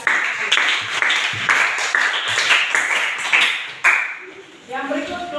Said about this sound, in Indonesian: tepuk tangan sekali lagi untuk kelompok 1